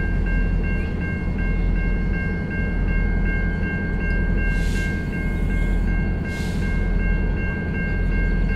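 A couple of train locomotives running with no cars attached rumble and roll past steadily, a continuous mechanical drone with a faint higher whine riding on top.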